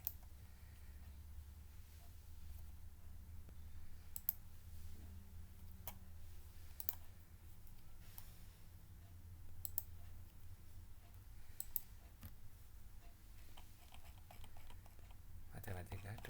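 Sparse, faint computer mouse clicks while styling headings in a word processor: scattered sharp ticks over a low steady hum, roughly every second or two, with a little talk underneath.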